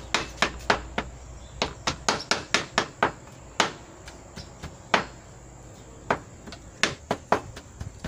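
Rhythmic knife blows chopping meat by hand on a board to mince it, a steady series of sharp close thuds repeating roughly every half second with brief pauses.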